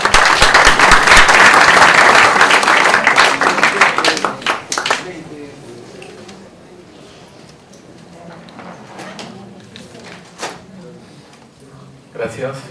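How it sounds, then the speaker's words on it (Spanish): Audience applause at an international seminar on money laundering at a Peruvian university: loud dense clapping for about five seconds, then tapering off to scattered claps and quiet room noise with a few late claps. "El aplauso afectuoso para él."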